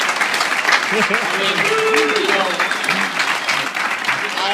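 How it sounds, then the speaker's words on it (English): Audience applause at a training event, loud continuous clapping with someone talking over it throughout. "Let's give her a round of applause, too."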